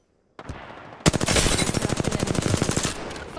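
Automatic weapon fire in Apex Legends: after a short softer lead-in, a loud, rapid burst of evenly spaced shots rattles for about two seconds, then cuts off into a fading tail.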